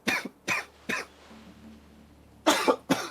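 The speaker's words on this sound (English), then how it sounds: "Don't ask why I'm coughing" A single person coughs five times in short, harsh bursts, three evenly spaced, then a pause, then two more, close and fairly loud with a quiet hum between them.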